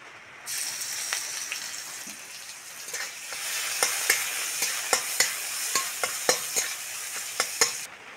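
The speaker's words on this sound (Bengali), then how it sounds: "এবার ওল্লাটাটা ভেজে নেব। তেলের মধ্যে থেতো করা রসুন দিয়ে দেবো।" Boiled elephant foot yam stalks and crushed garlic frying in oil in a village kitchen, a steady bright sizzle that starts abruptly, with a string of sharp scraping stirs and clinks growing more regular toward the end.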